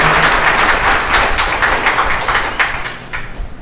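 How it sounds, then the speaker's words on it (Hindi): An audience at a morning church worship session on a Gujarat mission trip claps for the worship team, a loud dense patter of many hands that holds steady and then thins toward the end. "क्यों ना वर्शिप टीम के लिए ताली बजा के धन्यवाद दें"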